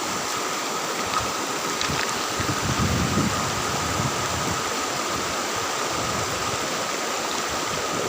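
The Cijalu river runs over large rocks through forest, a loud, steady rushing and splashing of water that continues unbroken throughout, close by and with no voices.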